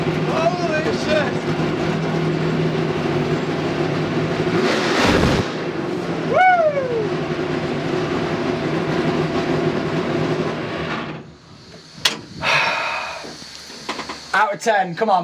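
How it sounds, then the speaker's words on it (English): A NASCAR race car roars from inside the cabin, its engine droning loudly and rising in pitch through sweeps as it accelerates and shifts gear, then dropping away; a voice speaks briefly near the end. "when he accelerates, the car is literally trying to drive through me."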